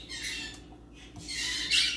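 Birds just outside a room squawk and bellow in harsh, shrill bursts, with a short pause midway and a louder stretch near the end, slightly distant. No voices are heard.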